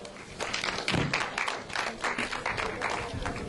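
A modest audience at a WWF presentation claps in welcome, a faint, uneven patter of scattered hands with a few louder individual claps.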